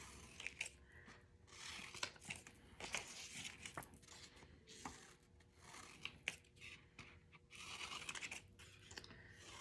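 Scissors cut out paper pieces one at a time, producing close, quiet, irregular snips and crisp paper rustles in quick bursts.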